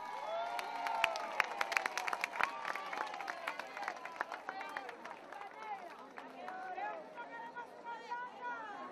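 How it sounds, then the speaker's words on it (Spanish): A concert crowd at a carnival on Isla de la Juventud, Cuba, claps and cheers with scattered sharp claps and excited shouts, voices chattering throughout the lively noise. "Y monta aplausos para estos chicos."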